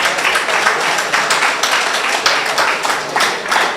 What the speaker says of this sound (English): I think they deserve a round of applause for what they've done.